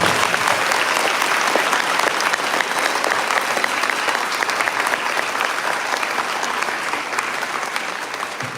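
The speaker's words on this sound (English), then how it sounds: "Give them one more great round of applause." An audience at an honor society induction ceremony claps steadily, with dense, sustained applause that holds at an even level for several seconds before tapering slightly at the end.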